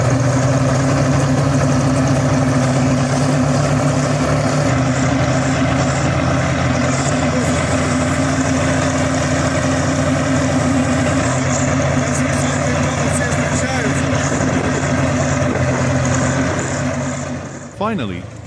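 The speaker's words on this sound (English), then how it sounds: "He used his skills along with the power of the tractor to pull the K701 up." A tractor engine drones loudly and steadily as it pulls a K701 tractor out of mud, a continuous low rumble with faint shifts in pitch, cutting off abruptly near the end.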